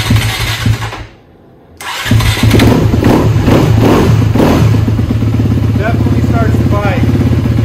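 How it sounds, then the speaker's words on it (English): A 2019 Honda CRF 250RX dirt bike running on a Tusk Lithium Pro replacement battery cranks, falls silent briefly, then fires and settles into a steady, loud idle, with a person talking over it. "Let's see if the bike starts."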